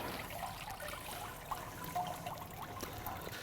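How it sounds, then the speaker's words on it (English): Brine water drains out of a pot of turkeys, a soft steady trickle with faint splashes, quiet and without speech. "Let all the water run out."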